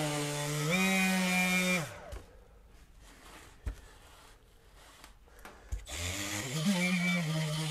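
A Milwaukee M12 Fuel orbital detail sander runs loudly on wood with a steady harmonic whine, stops for a few quiet seconds broken by a couple of knocks, then starts up again.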